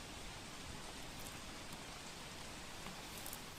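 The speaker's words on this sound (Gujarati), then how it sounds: "અમદાવાદમાં સાંજના સમયે કમોસમી વરસાદનું આગમન થયું" Unseasonal evening rain falling in Ahmedabad, a steady dense hiss of rainfall on surfaces, continuous and even, fairly faint and without voices.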